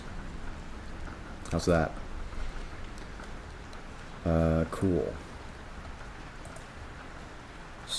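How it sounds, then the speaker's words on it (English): Rain sounds play from a playlist as a steady, even hiss that runs through the whole stretch, with brief bursts of a person talking over it. "I made a rain playlist."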